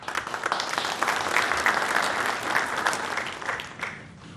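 Sustained applause from a conference audience in Bahrain, steady clapping rising slightly in the middle and fading toward the end, with no voices over it.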